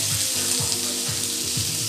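Good-quality olive oil poured from a glass while garlic cooks in a kitchen, giving a steady liquid trickle with a faint sizzling hiss, alone and close.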